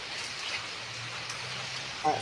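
Rain falling steadily outside a home kitchen, a soft continuous hiss at low level, with a brief murmur of a voice near the end.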